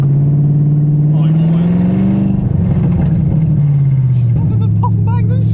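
BMW E36 engine droning at a steady pitch while driving, with a short burst of crackling exhaust pops and bangs in the middle, all close and loud beneath an excited voice.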